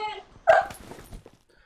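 A dog gives a single sharp bark followed by a short whimpering yip, close and brief, then quiet.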